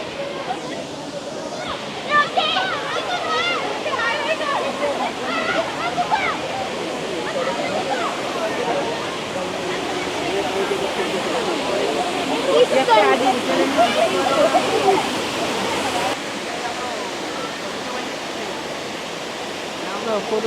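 Rushing water at Machha Kandana Waterfall in Mayurbhanj, a steady broad roar of falling water that carries on throughout, with voices mixed in at times.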